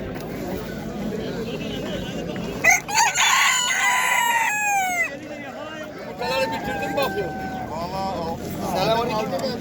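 Roosters crow repeatedly amid a noisy crowd at a poultry market in İzmir, Turkey, with hens clucking and people chattering throughout a busy outdoor scene.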